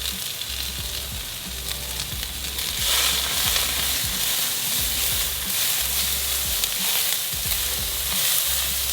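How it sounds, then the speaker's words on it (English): Butter and onions sizzle steadily in a hot pan, a loud continuous frying hiss with occasional stirring scrapes and clinks close by. "I'm gonna throw this butter in there, and then I'm gonna reach over here and I'm gonna get those onions."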